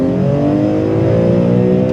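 A BMW E46 M3 engine pulls hard under acceleration, a loud, raucous, rising drone with strong harmonic layers, close and steady for two seconds with no talk over it.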